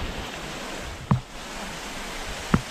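Mountain waterfalls and streams swollen after a heavy rainstorm rush in a steady, loud roar of falling water, with two brief knocks breaking through the constant wash.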